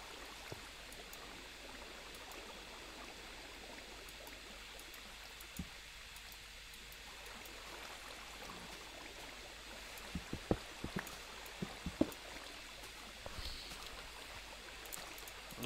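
Gentle flowing water in Minecraft, a faint steady trickling wash running throughout with a few soft clicks near the end, quiet and alone.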